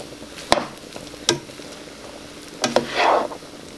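Vegetable fried rice fries in butter in a pan while being stirred: a steady sizzle with several scraping strokes of the utensil, one longer hiss toward the end, close and fairly loud, no talking.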